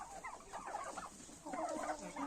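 Turkeys, bronze and red birds, and other poultry on a farmyard, gobbling and clucking in overlapping bursts. Their calls come at moderate distance, in uneven rhythm, with no one speaking.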